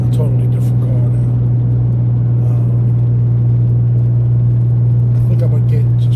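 A Mitsubishi 3000GT SOHC with a loud exhaust while driving, heard from inside as a steady, heavy low engine drone and rumble that holds constant through the whole stretch.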